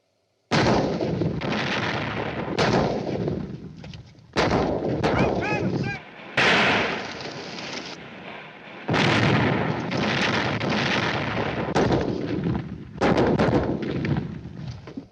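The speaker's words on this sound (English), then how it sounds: "Siege guns. Bigger than anything we've got." Heavy siege guns fire in a bombardment, a series of loud booming blasts several seconds apart, each followed by a rolling rumble that decays.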